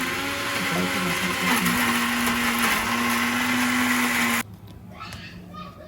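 Kitchen mixer grinder whirring loudly as it grinds ripe red chillies for a pickle, a steady high motor whine with someone speaking briefly, then cutting off abruptly near the end.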